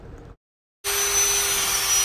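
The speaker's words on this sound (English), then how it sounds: "I'm using a lot smaller drill bit than the actual line, and I'm working it clockwise, kind of spinning it around" A power drill with a small bit spins clockwise, drilling into the metal barrel of a broken fuel line inside its connector. A brief murmur and a moment of silence come first, then a loud, steady whine runs without pause.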